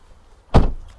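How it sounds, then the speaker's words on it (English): The door of a BMW i3 electric car, built on an aluminium chassis, is shut with a single solid, close thump that decays quickly into quiet, with no talking. "Let's shut the door, Benjamin."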